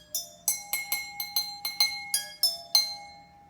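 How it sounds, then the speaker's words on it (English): Water-filled drinking glasses are struck one after another, picking out a pentatonic tune in about eleven clear ringing notes, each decaying briefly, close and with no voices. "Send me a video back if you guys playing on your pentatonic water glass scale."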